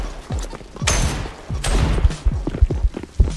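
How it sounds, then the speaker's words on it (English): Gunfire in the Roblox game Blackout: rapid bursts of shots with sharp thuds and cracks, loud and dense, several clusters over a few seconds. "This guy got shot by his own team member."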